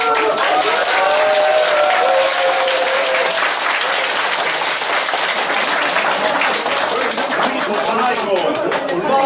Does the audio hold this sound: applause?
yes